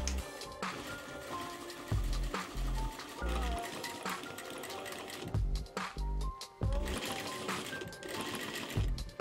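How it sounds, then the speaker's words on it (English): A sewing machine stitches bias tape binding along the raw edge of a fabric sun hat, running in several bursts of rapid mechanical whirring separated by short pauses, close and clear. "I open up one side and sew it along the raw edge to the seam"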